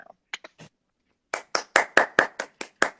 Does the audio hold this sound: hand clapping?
yes